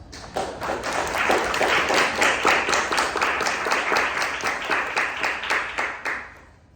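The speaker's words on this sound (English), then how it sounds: "let's give them a round of applause" A class gives a round of applause in a music education classroom. Many hands clap at close range with a brisk, even rhythm, then the clapping fades out.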